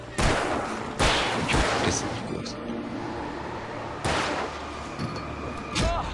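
In the game Alan Wake, a headshot fires off as several sharp, loud gunshot bursts spaced a second or more apart, each one ringing out briefly against a quieter ambient backdrop.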